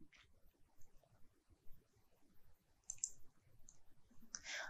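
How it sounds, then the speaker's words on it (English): A few sharp mouse clicks in reinforced-concrete section design software, spaced out and faint against a quiet background hiss. "I click on save and return"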